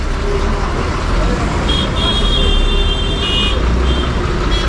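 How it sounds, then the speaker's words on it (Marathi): Road traffic at a village junction near Sangameshwar where the Ratnagiri and Devrukh roads split, a steady close roar of passing vehicles with a few horn toots rising midway. "तर इथे आत्ता ट्रॅफिक झालं आहे थोडंसं"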